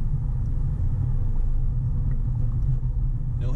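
Steady low idle of a 2002 Jaguar S-Type's 3.0 V6 engine, a smooth continuous rumble with a level, even tone and no revving, close and moderately loud throughout.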